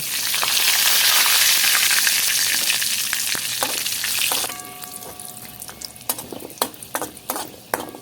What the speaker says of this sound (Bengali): এবার এই মাছ ভাজা তেলের মধ্যেই কটা শুকনো লঙ্কা আর পাঁচ ফোড়ন আমি ফোড়ন দিচ্ছি